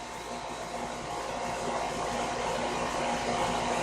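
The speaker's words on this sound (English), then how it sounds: "The air conditioning unit is on." An indoor air conditioning unit runs with a steady, loud, even broadband whoosh and a faint mechanical hum, unbroken for the whole stretch with no voices.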